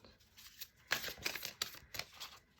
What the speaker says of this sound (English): I hope you're okay that I'm gonna shuffle on screen.